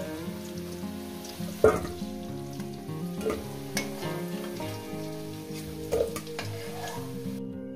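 Potato pieces fry in hot oil, a close steady bubbling sizzle with a few sharp spatula knocks and scrapes against the pan, no voices.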